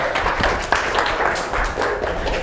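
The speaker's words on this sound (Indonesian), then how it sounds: "kasih tepuk tangan" A classroom audience claps their hands together in a lively, dense patter that goes on for a couple of seconds, fairly close and without talk.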